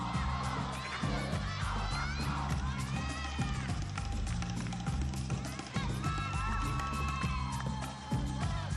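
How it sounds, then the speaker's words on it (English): A gymnastics crowd at a 2004 NCAA women's meet between UCLA and Washington cheers and whoops steadily through a floor routine, loud and sustained, with music playing underneath and voices mixed into the noise. "crowd really gets into what she's doing"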